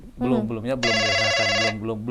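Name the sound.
telephone ringing for an incoming call on a talk show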